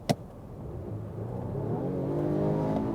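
After a brief sharp click, a Volvo V90 hybrid's combustion engine kicks in under full throttle and accelerates, its whirring tone climbing steadily in pitch as it gains speed.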